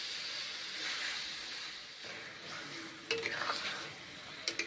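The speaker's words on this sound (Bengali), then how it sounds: "খুন্তি করে নেড়ে চেড়ে কষে নেব, ভালো করে কষে নেব" Mutton curry is stirred and fried with a spatula in a pan, a continuous hiss and sizzle with scraping strokes and a few sharp metallic clinks of the spatula against the pot toward the end.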